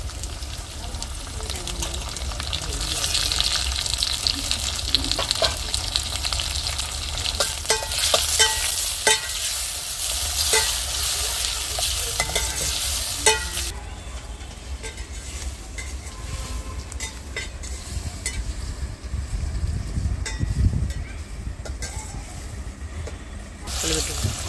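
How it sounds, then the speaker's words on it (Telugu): Onions and tomatoes fry in a pan for a traditional village-style silavati fish curry, a steady sizzle with scraping stirs that drops to a quieter hiss partway through, heard close with occasional low background noise. "ఎర్రగడ్డలు అయితే ఏగిపోయి టమాటా అయితే వేసుకున్నాం."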